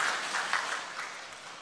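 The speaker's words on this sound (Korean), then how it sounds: "좌우에 계신 분들에게 사랑과 축복의 박수 한번 보내주시기 바랍니다" Church congregation at a Wednesday worship service giving a short burst of applause, a dense patter of many hands clapping at moderate volume that tapers off within two seconds.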